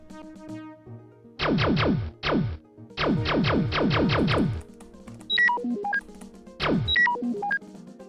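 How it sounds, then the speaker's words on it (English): Electronic beeps and chirps from the 1994 DOS space combat game Star Crusader, several rapid descending bursts followed by stepped tonal blips, loud and alone over a low game hum. "What was the beeping?"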